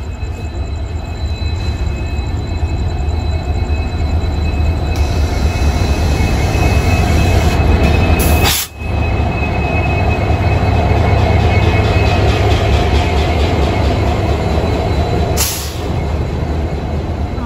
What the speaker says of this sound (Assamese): এই আমাৰ মালগাড়ী আহি গ'ল এতিয়া।